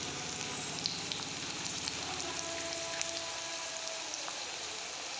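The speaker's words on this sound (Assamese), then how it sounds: "এইফালে মই পিঁয়াজ ভাজি আছোঁ, পিঁয়াজ ভজা হৈছেগৈ" Onions fry in a pan in a home kitchen, a soft, steady sizzle with faint scattered crackles, quiet and continuous with no talking.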